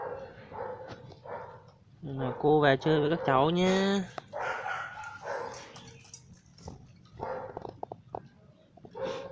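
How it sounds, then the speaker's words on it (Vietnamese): A litter of seven puppies, one to two months old, and their mother yip and bark in a quick burst of high, squeaky calls, with someone talking before and after. "Đấy, đàn chó của cô đấy."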